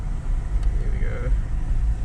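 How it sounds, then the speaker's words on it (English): Subaru driving off-road, with a low engine rumble and road noise under the cabin that stay loud and steady throughout, plus a faint brief whine or voice partway through. "So around 1500 RPM, that's when the turbo kicks in, and it's got like heaps good pulling."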